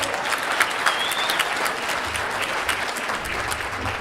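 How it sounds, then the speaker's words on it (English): Warm, sustained applause from an audience at a high school athletic hall of fame induction ceremony, many hands clapping steadily with a few sharper claps and a brief whistle standing out. "Give her a round of applause."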